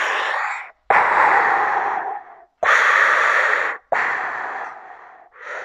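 A voice imitates Darth Vader's mechanical breathing, giving four long, rasping hissed breaths separated by short silences and ending on the start of a fifth, close and loud.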